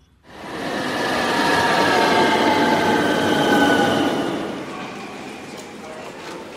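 A train runs steadily in a Bengali audio drama as a sound effect, a dense rolling rumble with faint wheel clatter that swells in quickly and holds, easing slightly toward the end, with no voices.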